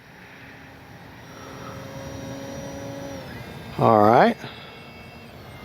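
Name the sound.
RC model airplane motor in flight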